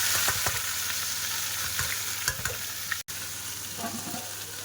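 Small fish and okra frying in oil make a steady, close sizzle with light stirring clicks, running continuously without talk.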